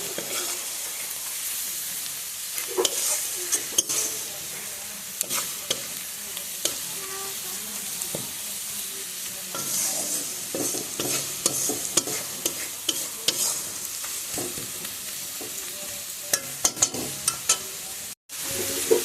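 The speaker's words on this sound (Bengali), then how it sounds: "মশলাটা একটু ভেজে নিয়ে আমি ভালো করে।" Spice masala fries in a pan for a small-fish curry with sour leaves, giving a continuous close sizzle with frequent scraping stirs and crisp pops throughout.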